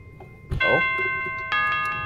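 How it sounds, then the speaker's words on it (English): Bells of Victory chime from a FNaF-themed Minecraft roleplay game, ringing out as two bright, sustained bell tones, the second entering about a second after the first, both loud and ringing on without talk. "There's the Bells of Victory."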